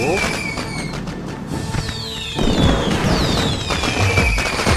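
Cannon fire and explosions in the video game Rock of Ages 2, repeated loud booms and whooshing projectile sounds layered over busy game noise, with a voice talking throughout.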